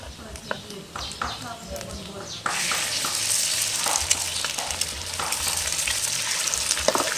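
Egg hits a hot pan for fried rice, the sizzle jumping up sharply and then crackling steadily with scraping stirs and clinks, voices talking now and then.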